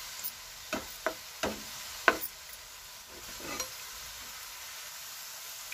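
Bitter gourd fries in oil with a faint, steady sizzle, broken by a handful of sharp spatula clicks and taps in the first few seconds, then quieter hissing.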